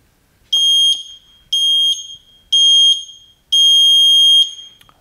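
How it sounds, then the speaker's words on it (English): Four high electronic beeps from a Seesii home gym interval timer, evenly spaced about a second apart, the last held noticeably longer, loud against silence. "When it gets to 3, it's gonna beep at me again."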